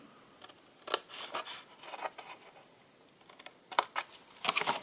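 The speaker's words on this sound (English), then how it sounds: "Cut across that one and just wedge." Scissors cut through card while making a joined box, a close run of crisp snipping and rustling strokes in two bursts with a short pause between, fairly quiet and without speech.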